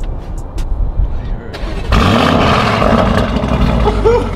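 A V8 car engine fitted with a downpipe exhaust starts up and settles into a loud, steady rumble, heard up close with a low idle hum and faint background noise before it catches.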